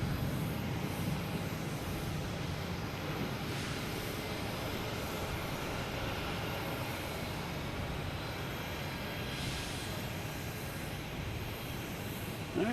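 Jet airliner engines rumble steadily at Boston Logan Airport, a broad continuous roar at moderate distance with no talking.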